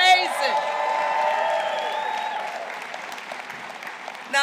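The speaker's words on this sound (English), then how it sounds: "give them a round of applause" A campaign rally crowd in Philadelphia claps and cheers loudly in sustained applause, with some whoops and voices mixed in, holding steady before tapering slightly toward the end.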